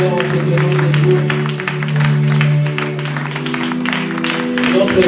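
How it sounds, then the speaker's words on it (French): A church congregation applauding during a Sunday service, steady clapping running throughout beneath a sustained music chord and voices. "Acclamons très bien pour le Seigneur."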